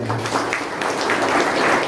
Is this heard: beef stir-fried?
no